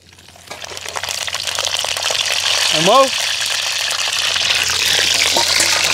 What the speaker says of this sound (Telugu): నూనె, ఆవాలు, పచ్చెనపప్పు, మినపప్పు అయితే వేసి ముందుగా అయితే వేగించుకుంటున్నాం.